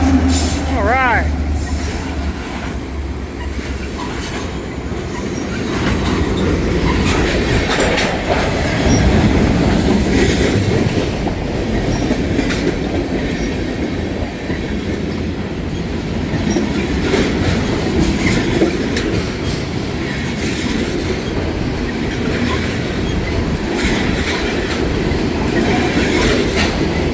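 A long freight train with a DPU locomotive rolls steadily past at close range, loud and continuous, its wheels clicking and clattering throughout, with a brief horn-like tone near the start and a voice speaking partway through.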